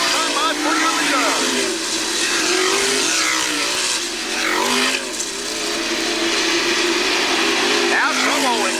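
Wingless sprint cars roar around the US 36 Raceway, engines loud and sustained as they race lap after lap, with a commentator's voice running continuously over the engine noise.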